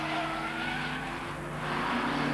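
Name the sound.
Porsche race car braking hard into a 180-degree right-hand turn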